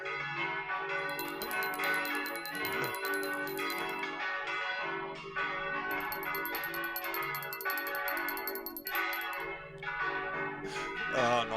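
Bells ring continuously in a dense, overlapping peal, loud and steady throughout with bright shimmering overtones layered one on top of another.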